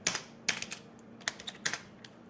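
Fingers tap out HTML code on a computer keyboard in quick, irregular bursts of crisp clicks, a handful of keystrokes close and fairly quiet, with no voices.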